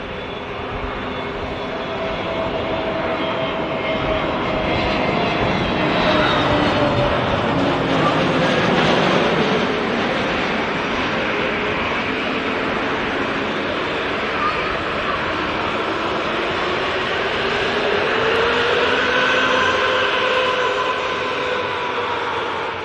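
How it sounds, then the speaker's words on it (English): A Pegasus airliner departs for Istanbul, its jet engines producing a sustained broad roar that swells and then slowly fades at a distance across the airfield. "Pegasus aircraft depart for Istanbul."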